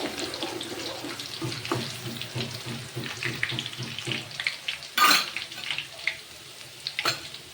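Garlic paste sizzles in hot oil in a pan for a kantola (spiny gourd) curry while being stirred: a steady close frying hiss with rhythmic stirring scrapes and a sharper burst of sizzle midway.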